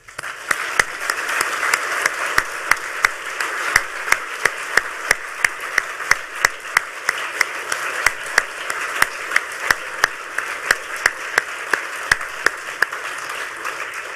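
Sustained audience applause after a keynote address at a hacker conference, a dense steady wash of many clapping hands with no speech, holding at an even level throughout.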